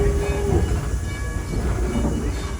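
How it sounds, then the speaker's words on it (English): A heritage train at Greenfield Village rumbles loudly and steadily while slowing to a stop, a brief squealing tone appearing near the start. "stay seated as the train comes to a stop"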